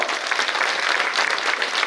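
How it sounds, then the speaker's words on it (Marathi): Dense, steady applause from a crowd at an election campaign rally in Rawalgaon, a continuous clatter of many clapping hands filling the whole stretch at even loudness. "आपण टाळ्या वाजून आभार व्यक्त करूया"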